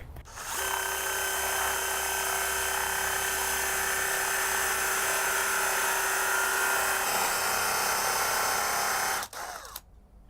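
A steady, high-pitched power drill whines continuously for several seconds at close range while drilling through a dead iPhone 7, then cuts off abruptly near the end.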